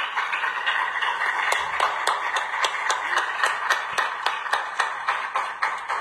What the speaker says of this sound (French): C'est Chantou qui applaudit comme ça.